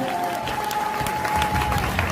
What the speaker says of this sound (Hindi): ताली मर्दों वाली बजाइए